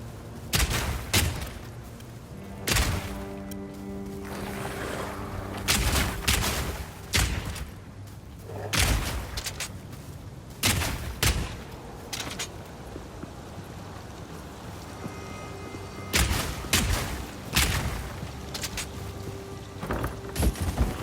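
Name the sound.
gunfire and grenade shots in the video game Path of Exile 2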